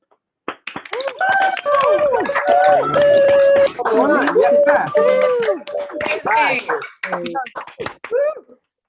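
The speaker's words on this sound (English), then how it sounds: "give them one more round of applause" Unmuted participants at a virtual 2021 public policy school commencement clap in scattered, uneven bursts through several laptop microphones, mixed with overlapping voices and cheering.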